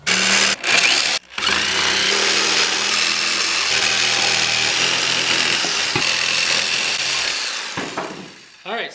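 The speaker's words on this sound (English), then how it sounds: "then you just take your jigsaw and cut it out." A jigsaw cuts through cedar wood for a grill scraper, a loud, steady buzzing drone that runs nearly continuously after two brief pauses near the start, then tapers off toward the end.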